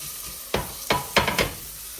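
Four sharp scraping strokes of a spoon stirring ground paste into soup in a pot, quick and close with a soft bubbling background and no talk.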